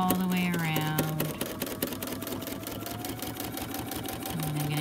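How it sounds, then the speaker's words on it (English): A Dreamweaver XE sewing machine doing free motion stitching on fusible applique, a fast steady mechanical whirring and clatter heard close, with someone talking over it. "I'm just going to do a few locking stitches at the beginning, and then I'm going to go all the way around"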